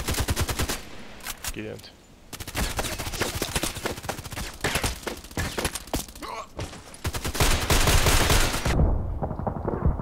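Rapid sniper rifle gunshots in an online first-person shooter match, a dense barrage of sharp, loud cracks and bursts throughout, with a player's brief voice over the gunfire.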